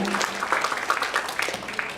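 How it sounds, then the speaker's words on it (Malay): Short burst of audience applause at a convention event honouring a state-level poetry winner, a brief scatter of clapping with a voice under it. "tepukan sekali lagi untuk mereka"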